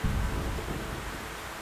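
Heavy rain pouring at a mine, a dense, steady broadband roar with no distinct drops, constant and fairly close throughout.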